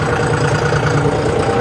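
Tractor engine running in a farm field, a steady loud rumbling chug heard close and alone, with no talk.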